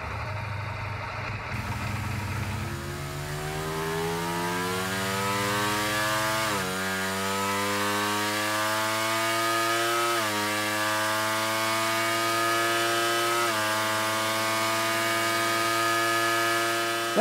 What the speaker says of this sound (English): That's the sound of the new V4 powered Ducati Panigale